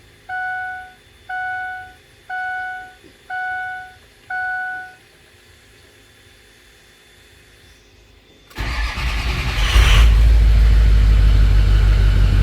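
A Ford 6.0 Powerstroke diesel pickup truck, after fitting new batteries, chimes five warning beeps, then cranks and fires into a loud, close, rumbling diesel idle.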